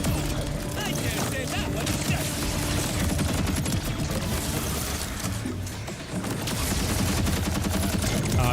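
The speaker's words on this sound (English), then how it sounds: "Look at all the fireworks." A rapid-fire gun in the video game Borderlands 4 shoots firework-like rounds, a dense, continuous crackling fusillade of shots and bursts heard alone at close range.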